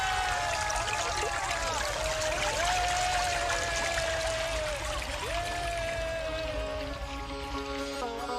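Water streams and pours out steadily, a continuous splashing gush with tonal gurgling running throughout and trailing off slightly at the end.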